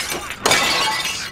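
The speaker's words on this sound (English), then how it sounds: "Crack lots of pots, break crates of plates, smash a lady with a dog's face." Pots and plates smash in a breaking game at a Christmas souvenir stall: a loud, close crash of shattering crockery, then a sustained rattle of breaking pieces and a second burst of smashing.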